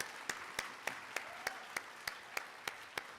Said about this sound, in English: I think they deserve another much warmer round of applause than that